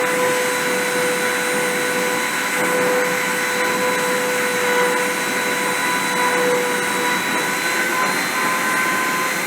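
A milling spindle spinning at 30,000 RPM gives a steady, loud high-pitched whine with layered tonal hums, running continuously without a break and with no talking.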